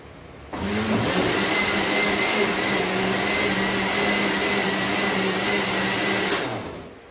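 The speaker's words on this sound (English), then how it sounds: "Blend all this together." A blender whirs steadily for about six seconds, blending pineapple and passion fruit, loud and close, starting abruptly and winding down at the end.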